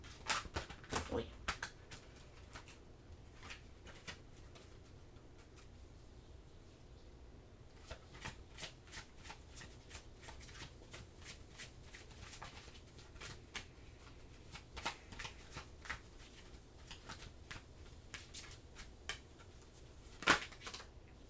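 Oracle cards being shuffled by hand during a tarot-style reading, heard as soft riffling bursts and slaps scattered over about twenty seconds, fairly quiet and close, with a louder flurry near the end.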